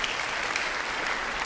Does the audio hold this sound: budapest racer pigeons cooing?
no